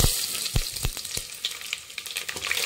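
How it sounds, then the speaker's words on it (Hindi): Mustard seeds, curry leaves and dried red chillies sizzle and crackle in hot oil in a pot, a busy spattering hiss with sharp pops throughout, close and alone. "अब हम डालेंगे राय, कड़ी पत्ता और सूखी लाल मिर्च।"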